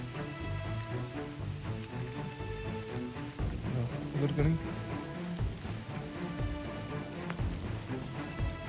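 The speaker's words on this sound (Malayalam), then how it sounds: "അങ്ങനെ മഴയൊക്കെ ചോർന്നുണ്ട്" Steady rain patters on surfaces outdoors during a monsoon off-road motorcycle outing, a dense even hiss with scattered louder drops, while a person talks over it.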